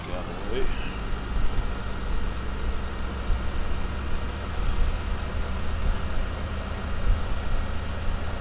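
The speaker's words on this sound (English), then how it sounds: "Truck out of the way." A truck idles with a low, steady engine rumble in a farm setting, and a sharp hiss of released air from its air brakes bursts out midway.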